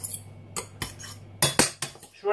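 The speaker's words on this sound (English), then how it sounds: "Just run it through with a knife, a fork. There you go. That's supposed to get it fluffy." A knife and fork scrape and clink against a bowl while fluffing cooked Uncle Ben's microwave rice. A few sharp taps come at irregular moments, close by, with quiet gaps between them and no talking.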